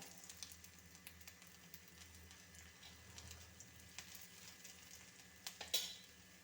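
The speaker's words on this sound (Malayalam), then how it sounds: "ചൂടായ എണ്ണയിലേക്ക് കടുക് ഇട്ട് കൊടുക്കാം" Mustard seeds crackle in hot oil in a kitchen pan while a Kerala vendakka moru curry is cooked, giving a faint steady sizzle with scattered small pops and a louder burst of spitting near the end.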